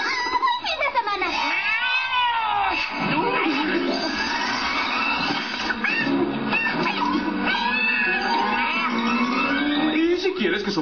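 A cartoon cat yowls and caterwauls in long, wavering, rising and falling cries, loud and close, mixed with voices and background sound.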